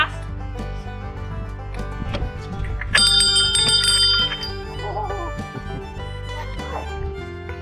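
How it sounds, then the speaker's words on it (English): A bell rings in the cab of a locomotive at a railway museum, with bright, sustained metallic tones from about the three-second mark over a steady hum and background chatter. "Did you ring the bell?"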